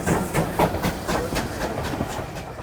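A steam train passes close by, its rhythmic chuffing beats pulsing steadily and loudly over a constant rail rumble and hiss.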